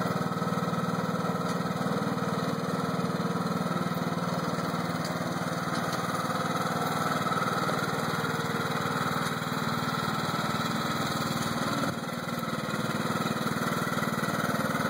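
A John Deere lawn mower engine runs steadily and fairly close, a constant droning hum with no breaks and no voices.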